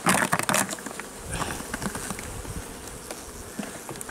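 Honey bees buzz continuously close by in a hive compartment, a dense humming drone with louder clicks and bumps near the start, no voices.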